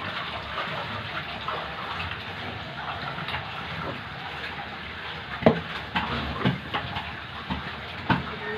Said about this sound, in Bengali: এই যে দেখেন ফুটছে